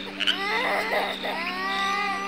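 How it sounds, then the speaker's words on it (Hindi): Children crying inside a house: continuous, close, wailing sobs with rising and falling pitch, heard alone without talk. "एक घर से बच्चों के रोने की आवाज़ आ रही है।"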